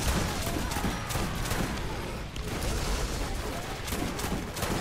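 Sustained gunfire in the video game Borderlands, a dense, close barrage of rapid shots and booms that barely lets up, with brief speech mixed under the shooting.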